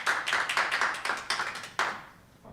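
Audience clapping at a town council meeting, a short burst of scattered claps from a few people that quickly thins out and fades within a couple of seconds.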